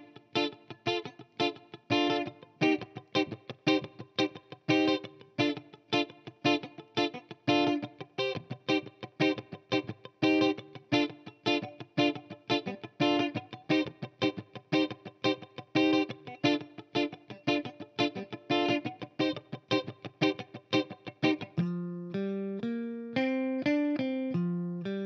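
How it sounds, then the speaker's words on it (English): Funky electric guitar groove alternating two chords with effects, with tight choppy rhythmic strums throughout and a short sliding single-note line at the end. "It's a 2-chord funky groove here that sounds like this."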